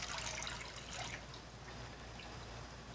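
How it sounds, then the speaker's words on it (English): Water pouring gently into a pan at the start of a soup recipe, a steady soft splashing trickle that is strongest over the first second and then settles into a quieter, continuous wash. "So we've got 4 cups of water here. Just pour that in,"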